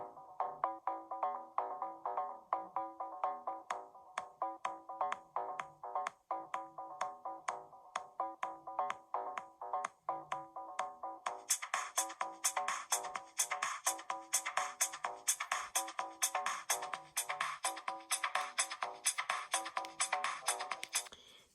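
A Motorola RAZR V3i plays its ringtone, a repeating electronic melody, steady and rhythmic, growing brighter and fuller partway through, with no talking.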